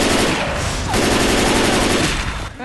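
Sustained automatic gunfire in the video game Left 4 Dead 2, several weapons firing rapidly together at the Tank during a Hard Rain versus match, loud and continuous with no pauses.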